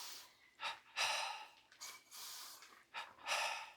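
Deep rhythmic breathing during a double-breathing pranayama kriya exercise, close and breathy, with about six sharp inhale and exhale bursts in uneven pairs against a quiet background.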